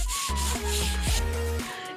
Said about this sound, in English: we're going to get some sandpaper and sand it down so that the paint will stick better